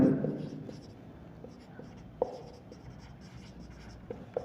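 Writing during the working of a class 12 physics numerical problem on the photoelectric effect. Soft scratching is punctuated by a few faint taps, all quiet and close, after a brief louder rustle at the start.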